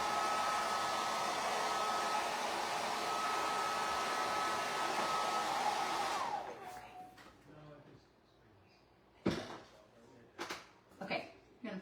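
A hair dryer blows a loud, steady whine over chalkboard paint for about six seconds and then shuts off. Afterward come a few knocks and handling bumps, and a voice speaks softly.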